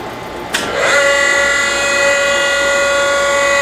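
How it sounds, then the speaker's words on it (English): A gear grinder's spindle starts after a sharp click, rising into a steady high-pitched whine with a tonal hum that holds loud and continuous. "We'll fire the spindle up first."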